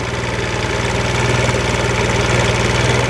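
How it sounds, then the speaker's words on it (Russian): Scooter engine idling steadily after a carburetor adjustment for a no-start fault, a close, loud, even low pulsing that keeps running without stalling and has no talk over it. "еще не глохнет, двигатель работает нормально"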